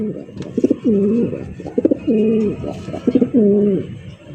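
Large pigeons at a pigeon sale coo close by in three repeated rolling phrases, each opened by a few soft clicks, with brief quiet gaps between.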